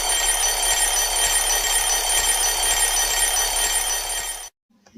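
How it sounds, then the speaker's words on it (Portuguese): An alarm clock rings with a continuous bright electronic trill, loud and unbroken for about four and a half seconds before it cuts off abruptly. "O despertador tem um som"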